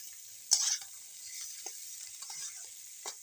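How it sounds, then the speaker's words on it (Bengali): Egg omelette curry being stirred in a hot pan, with a few clear scraping strokes over a steady background sizzle, close and fairly quiet. "এইভাবে কিছুক্ষণ নাড়াচাড়া করব।"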